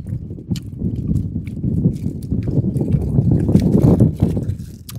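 Strong wind buffets a microphone outdoors in New Zealand, a continuous low gusty rumble that swells and dips with a few crackles, close and fairly loud.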